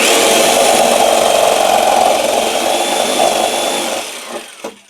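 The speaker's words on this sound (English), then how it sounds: "I'm just going to take my saw and I'm going to go up." A power saw cuts slits into a composting garden tower, a loud steady buzzing whine for about four seconds that then tapers off and stops near the end.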